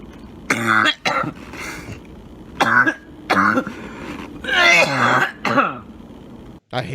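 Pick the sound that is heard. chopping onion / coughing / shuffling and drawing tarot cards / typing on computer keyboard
coughing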